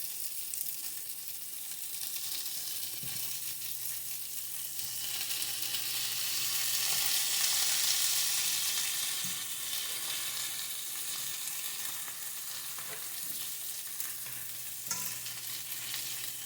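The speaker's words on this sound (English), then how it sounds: "I'm going to go in and add a tablespoon of butter. This is unsalted butter, by the way." A tablespoon of unsalted butter sizzles in a frying pan with Salisbury steak patties, a constant near crackle that swells gently in the middle and settles back, with occasional faint clinks and no talking.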